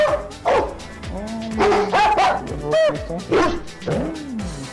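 Dogs bark and yip repeatedly at close range, with whining pitch slides between barks and some background voices.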